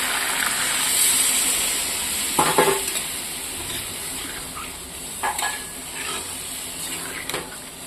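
Chicken curry frying in a pan hisses steadily, with a few brief louder bursts as a little water goes in and a spoon scrapes against the metal.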